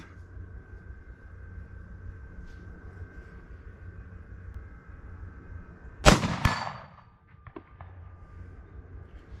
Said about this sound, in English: I'm gonna shoot the 8-inch to begin with.